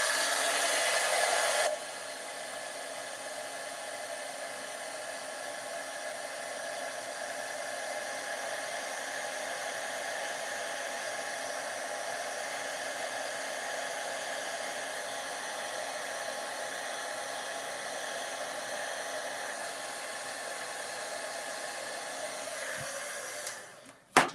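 A heat tool blows steadily to dry a layer for a handmade card, giving a constant airy hum for over twenty seconds. It switches on near the start and cuts off at the end.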